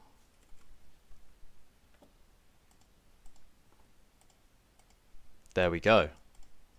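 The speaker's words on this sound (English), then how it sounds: "And now I'm typing more stuff and it's carrying on with the same." Soft, sparse clicks of typing on a computer keyboard during live coding of a web app, faint and intermittent, followed near the end by a brief spoken phrase.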